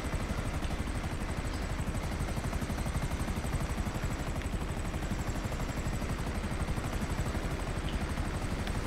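Plane flying in Grand Theft Auto V, a steady, fairly faint droning engine buzz with a rapid propeller-like flutter that stays constant for the whole stretch, with no talk.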